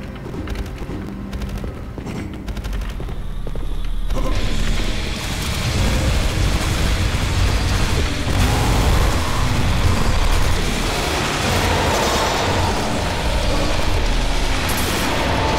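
Rocket launcher fire during a boss fight in the video game Valfaris, heard as loud, dense blasts and booming explosions layered over continuous combat noise that builds after a quieter opening and stays heavy throughout.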